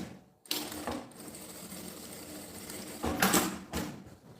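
A sewing machine stitches a fabric bag lining in two short runs, a steady mechanical whirr close by, and the second burst ends with a brief louder clatter.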